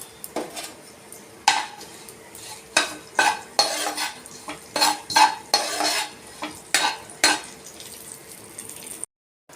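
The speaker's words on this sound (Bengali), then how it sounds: "এবার যে তেলে মাছের মুড়োগুলো ভেজেছিলাম সেই তেলে একটুখানি কালো জিরে ফোড়ন দিয়ে দেবো, আর 5-6খানা শুকনো লঙ্কা ফোড়ন দেব।" Nigella seeds and five or six dry chillies tempering in hot oil left from frying fish heads, with a faint sizzle under roughly a dozen loud, evenly spaced metal stirring scrapes against the pan, close up and without talk.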